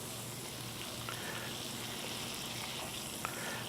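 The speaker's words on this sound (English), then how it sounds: "So if you can see, my butter's about melted." Butter melts in a pan for crawfish étouffée, giving off a soft, steady low sizzle that stays faint and even throughout, with no talking.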